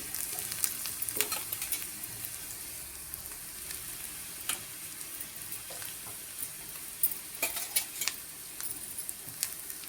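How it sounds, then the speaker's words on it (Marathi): Grated coconut roasting in a pan with onion, ginger and garlic for a spicy mutton dish, giving a faint, steady sizzle with frequent spoon scrapes and taps throughout, close by and without talk. "मी त्याच्या त्याच्यामध्ये आता खोबरं घालते आणि खोबरं पण त्याच्याबरोबर कांद्याबरोबर भाजून घेते"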